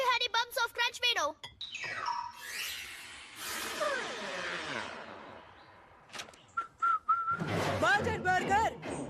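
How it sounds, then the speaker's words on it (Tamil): A cartoon character whistles a bright, sliding tune in short bursts, mixed in among lively animated voices and background sound effects. "விசில் அடிக்கிறத முதல்ல நிறுத்து"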